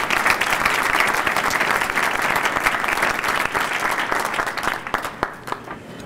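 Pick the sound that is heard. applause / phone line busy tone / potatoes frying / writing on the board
applause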